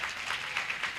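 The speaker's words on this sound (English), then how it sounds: "Give another round of applause for Mr." A brief, soft wash of audience clapping at a TVET college graduation ceremony, dense and even, heard from across the hall.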